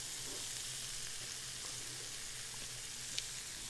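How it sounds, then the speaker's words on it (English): Chopped yellow onion frying in hot olive oil, a steady, fairly quiet hiss and crackle that runs unbroken with no talk, for braised boneless beef short ribs. "Okay, so oil's hot now, so I got right now olive oil in here. Got a one whole yellow onion cut up."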